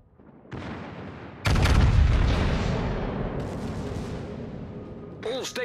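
Heavy battleship main guns fire in World of Warships aboard the Grosser Kurfürst, a loud deep boom followed by a long rumbling roar that slowly fades, with a second burst near the end.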